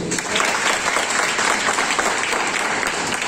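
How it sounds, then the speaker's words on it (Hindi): Seminar audience bursts into loud, sustained applause, dense clapping from a large crowd filling the room steadily for several seconds without a break. "एक बार आप सबकी जोरदार तालियां।"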